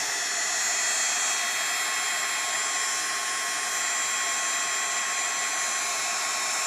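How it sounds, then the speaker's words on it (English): A heat gun runs steadily to set embossing powder on a handmade sympathy card, producing a loud, unbroken close-up whirring blast with a faint tonal whine and no speech. "you just want to keep your hand out of the way of the heat gun"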